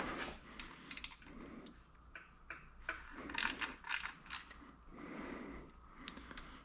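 A ratchet loosening 8 mm bolts on the solenoid body of a Ford Ecoboost SHO 6F55 transmission, quiet clicking bursts of pawl ticks in short runs with brief pauses between.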